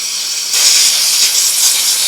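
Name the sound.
air blowing out Honda mower carburetor passageways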